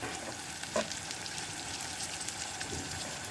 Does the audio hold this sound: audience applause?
no